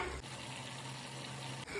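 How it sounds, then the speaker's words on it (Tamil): A steady stream of water pours into a pan of peppery chicken curry for about a second and a half, a continuous close rushing that begins and ends abruptly. "கொஞ்சம் தண்ணி ஊற்றி ஒரு கிண்டி கிண்டிட்டு மூடி வச்சிடலாம்."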